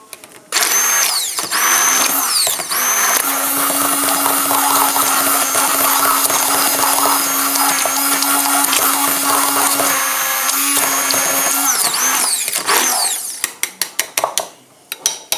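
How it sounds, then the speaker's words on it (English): A handheld stick blender whirs continuously as it purées a falafel patty mixture in a jug, a loud steady motor drone with rattling chops, then cutting out into a few short bursts at the end. "I'm just going to stick that with my stick blender"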